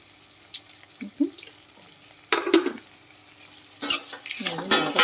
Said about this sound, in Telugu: ఫ్రై చేసుకోవాలి ఆనియన్స్ మరీ ఎక్కువ ఫ్రై అవసరం లేదండి